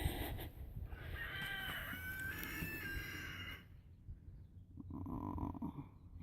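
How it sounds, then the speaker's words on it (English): Chickens on a backyard farm calling and clucking, with a drawn-out crowing-like cry in the middle and softer clucks afterward, close by and fairly quiet against a low background rumble. "let's go see the chickens, because hey, I have chickens"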